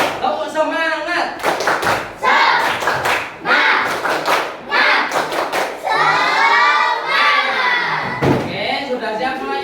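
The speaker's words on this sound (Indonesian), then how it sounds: "Tepuk 1, tepuk 2, tepuk semangat." A classroom group performs a rhythmic clap chant, loud bursts of clapping in a patterned sequence alternating with children's voices chanting and shouting together.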